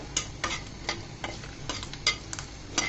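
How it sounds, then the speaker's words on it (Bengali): Three or four dried red chilies frying in oil for a helencha greens bhorta, a light sizzle punctuated by a quick series of crisp clicks and taps as they are stirred and turned, close by with no talking. "শুকনো মরিচগুলোকে ভালো করে ভেজে নিতে হবে"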